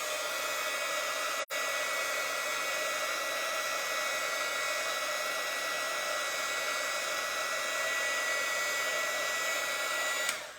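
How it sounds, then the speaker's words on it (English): Heat gun blowing hot air on torch paste through a stencil on wood, a loud, steady, hissing roar of air that runs unbroken apart from one very brief dropout, then cuts off at the end, with no talking. "when you're using a heat gun, it's loud and noisy"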